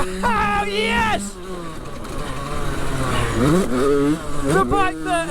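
A 2006 model motocross bike is ridden hard, its engine revving up and down in sharp rising and falling sweeps, loud and close, with brief drops in revs between pulls.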